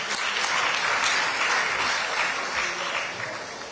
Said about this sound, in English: Let's usher them down with a round of applause, please.